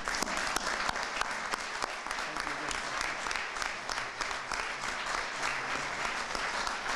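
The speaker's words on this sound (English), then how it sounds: "One more round of applause for people helping people and mutual aid." An audience at a 1913 flood commemoration ceremony in Hamilton claps in sustained, even applause, dense and fairly close, lasting several seconds without talk.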